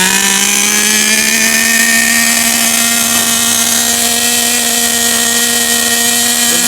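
Redcat Racing Volcano S30 nitro RC truck engine screaming at high revs, a loud, steady, piercing buzz with a slowly rising pitch, close and alone with no talk.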